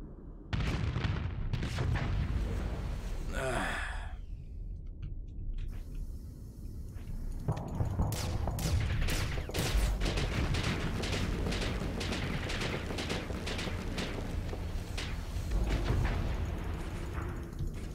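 Spaceship weapons firing in the StarSector space combat game, rapid repeated blasts and booms over a continuous engine-like drone, fairly loud throughout.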